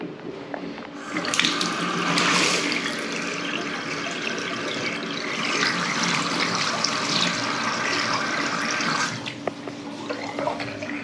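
Water runs from a newly fitted bathroom basin tap after a plumbing repair, a loud steady gushing splash that starts abruptly, holds for about eight seconds, then cuts off, with small clanks around it.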